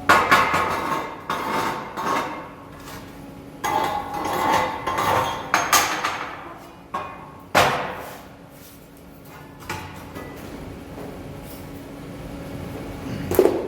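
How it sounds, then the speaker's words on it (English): Slag being chipped off fresh steel welds, a run of sharp metallic taps and knocks in irregular bursts, close up, thinning out toward the end. "I'm going to chip the slag off."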